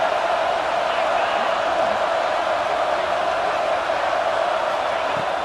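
A stadium crowd in College Football 26 on PS5 Pro roars in a steady, loud wash of noise as it urges the defense toward a red zone stop.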